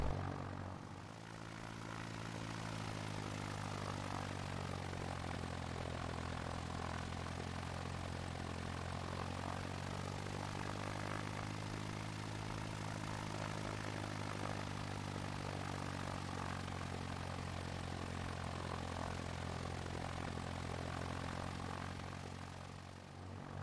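A propeller aircraft engine drones steadily in X-Plane 11 at a virtual Oshkosh fly-in, a continuous loud hum with harmonic tones that sag and rise slightly as power changes during a slow approach.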